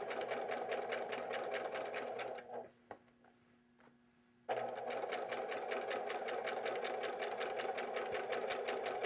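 A sewing machine stitches a seam during precision quilt piecing, a fast rhythmic clatter of the needle that pauses for about two seconds midway and then resumes at the same pace, close and without talk.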